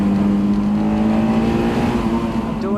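A Honda S2000 engine revs hard in second gear toward redline, a loud steady whine whose tone climbs through the pull, heard close from inside the car with no talking.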